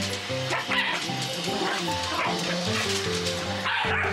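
A Shiba Inu and a Kai Ken squabble indoors, trading rapid yips, barks and whimpering growls in close, continuous bursts, loud and near.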